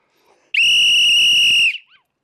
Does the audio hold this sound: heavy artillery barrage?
no